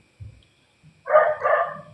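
A single dog bark, moderately loud and near, follows a brief quiet stretch with faint low thumps.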